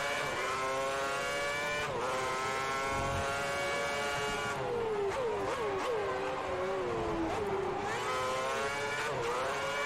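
A Formula One car engine in the F1 2010 racing game howls continuously at high revs. The pitch climbs through the gears and dips on downshifts, loud and steady throughout.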